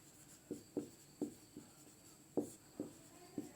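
Chalk taps and scrapes on a board during a physics lesson, a series of short distinct strokes at irregular intervals, fairly quiet and close, with no speech.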